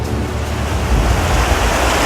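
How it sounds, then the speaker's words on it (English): Creek water flowing through Many Pines campground, a steady, loud, close rushing wash that does not change through the short stretch. "This is a creek that runs through our campground, Many Pines campground."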